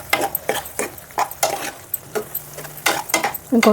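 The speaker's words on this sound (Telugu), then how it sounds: "కారం వేసి బాగా కలిపి" A spoon stirs chili powder into a pan of cooked, smashed tomato chutney, giving a string of short, close scraping strokes in an uneven rhythm with a faint sizzle underneath.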